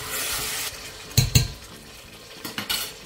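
Beef loin stirred in a hot frying pan with oregano, giving a soft steady sizzle broken by a few sharp utensil scrapes and clinks against the pan.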